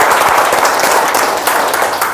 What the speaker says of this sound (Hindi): जोरदार ताली अगर अच्छा लगा